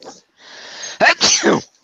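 A quick sneeze bursts out after a soft breathy intake, a short sharp double burst close by with no talking around it.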